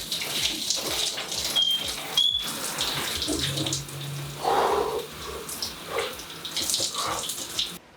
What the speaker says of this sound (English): you start with a nice warm shower, get yourself squeaky clean, and then take the plunge